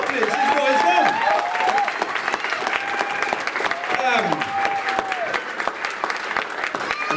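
A tribute-event crowd breaks into fuller applause, dense clapping with scattered cheers and whoops over it, sustained throughout and loud.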